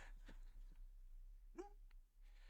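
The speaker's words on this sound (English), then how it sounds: "There's dog barking at us." A dog barks at people from a garden nearby, one sharp bark rising briefly out of a quiet, humming background.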